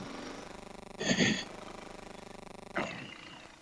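A Beta X Trainer dirt bike engine drones steadily while being ridden, with two sharp throttle blips that briefly rise to a louder, rasping roar before settling back to the close, pulsing idle-like hum.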